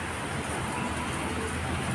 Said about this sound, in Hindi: अभी देखो बारिश, फिर से बारिश हो रही है